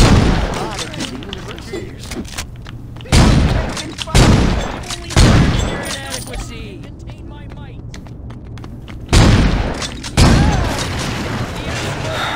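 Gunfire in Saints Row 2 bursts out in several loud, booming volleys, spaced through a steady background hum, with a voice talking between shots.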